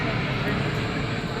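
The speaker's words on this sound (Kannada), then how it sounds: "ಏರೋಪ್ಲೇನ್ ನೋಡಿ ಎಷ್ಟು ಹತ್ರದಿಂದ ಹೋಗ್ತಿದೆ ಗೊತ್ತಾ" Airplane passing low overhead near a rural quarry, a loud broad roaring rumble of engines that stays strong and constant through the short stretch.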